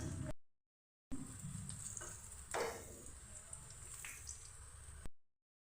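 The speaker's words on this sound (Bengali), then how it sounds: "সব কিছুকে আমি একটু লাল করে ভেজে নিচ্ছি" Onion, garlic and dried red chillies fry in oil for a mustard greens dish, a soft, close sizzle with occasional stirring scrapes, framed by brief stretches of silence at the start and end.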